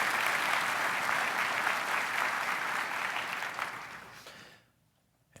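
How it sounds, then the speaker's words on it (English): Audience applause at opening remarks, a sustained round of clapping from a crowd that holds steady and then fades out near the end. "But let's also give Sarah a round of applause."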